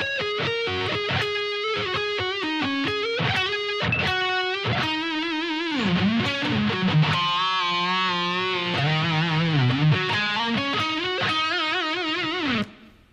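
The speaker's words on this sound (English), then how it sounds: "Okay, so that last section slow should sound like this." A distorted electric guitar plays the solo section at slow speed: a loud, sustained run of single notes with bends and vibrato, ending abruptly.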